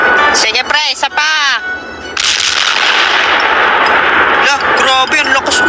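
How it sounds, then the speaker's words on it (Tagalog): In an animated New Year scene, a loud firecracker blast erupts and leaves a long, broad roaring wash behind it. Voices speak around it. "Grabe, ang lakas nun oh. Tara mga pre, tignan natin kung anong paputok yun."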